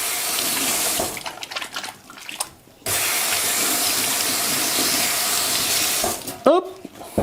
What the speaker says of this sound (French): Hop, je vais me laver les mains.